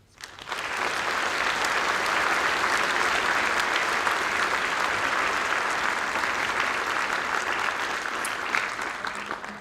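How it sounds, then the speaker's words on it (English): An audience applauds at a National Honor Society induction ceremony, dense sustained clapping that swells in quickly and stays loud and even before tapering at the end. "And if we get a round of applause."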